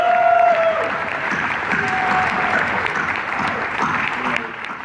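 An audience claps loudly for a basketball player's wife at an interview event, a thick burst of applause that stays steady for several seconds and then begins to ease off near the end.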